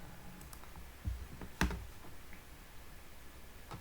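A few soft, sparse clicks of computer keyboard keys being pressed, including a Ctrl+S save shortcut, with two slightly louder taps over quiet room noise and no talking.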